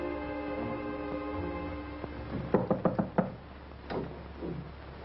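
A series of five quick knocks on a wooden door in an old 1945 comedy mystery film, sharp and fairly close, followed a moment later by a couple of softer, scattered taps against a steady hum of background noise.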